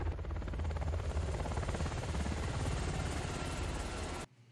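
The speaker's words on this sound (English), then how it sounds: "if I saw a helicopter flying at this point in time during the apocalypse" A helicopter thunders steadily overhead with a fast, chopping rotor pulse, loud and constant, then cuts off abruptly at the end.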